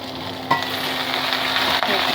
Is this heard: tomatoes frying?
yes